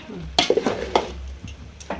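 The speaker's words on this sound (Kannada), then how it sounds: "ಒಗ್ಗರಣೆ ರೆಡಿ ಆಗತ್ರಿ ಇಲ್ಲಿ." Soft sizzling of spices in hot oil with a few sharp clinks and scrapes of a spoon against a pan, close by.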